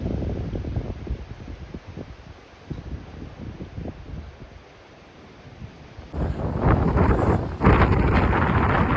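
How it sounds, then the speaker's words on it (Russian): Gusty cold wind buffets the microphone near the ocean in Florida with rough rumbling bursts, growing louder and harsher toward the end, with ocean surf in the background. "Холодный ветер сейчас, где-то 12 градусов всего."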